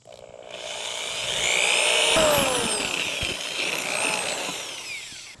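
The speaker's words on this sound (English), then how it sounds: "So I've drilled a pilot hole" A power drill with a small bit bores a pilot hole into a Triton bass boat hull. The motor winds up and holds a loud, close whine with a rising and falling pitch, a grinding rasp underneath, and no voice.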